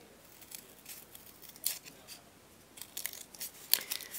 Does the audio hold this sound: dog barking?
no